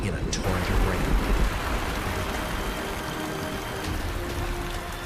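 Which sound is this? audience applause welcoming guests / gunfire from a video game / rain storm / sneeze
rain storm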